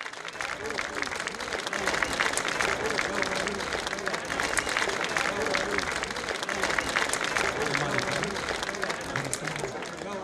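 Audience at a Romanian village stage show in Sibiel applauding a singer as he comes on, continuous loud clapping filling the hall from start to finish.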